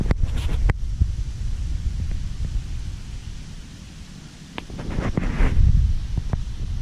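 Wind gusts across a beach and buffets the microphone, with a steady roar and sharp low thumps that swell and fade. No one speaks.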